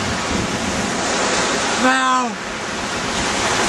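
Ocean waves roll as a steady, loud broadband wash of surf, with a brief tonal sweep near the middle and a single spoken word.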